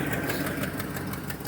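A truck engine idling after an oil change, a close, continuous rough rumble with a steady pulsing rhythm throughout.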